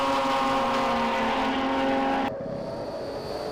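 BMW race cars on a circuit during a track and race day, a loud, sustained engine drone sweeping past close by and then dropping abruptly to a lower, fading tone.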